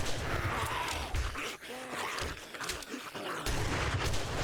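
Gunfire at a zombie horde in 7 Days to Die: dense bursts of shots mixed with zombie groans, loud and close, with a brief lull in the middle before firing resumes.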